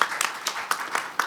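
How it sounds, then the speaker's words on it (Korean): Scattered clapping from a conference audience at an energy research presentation session, a handful of separate claps spaced out over about a second, moderately quiet and without voices. "박수 한번 주시죠."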